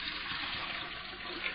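Water pours steadily into a gallon container for homemade root beer, a continuous close rushing stream with no talk over it.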